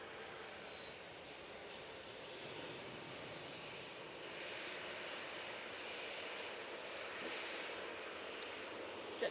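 Jet2 Boeing 737 airliner engines at Manchester Airport, a steady broadband roar that swells slightly midway and holds, heard from some distance with no talk.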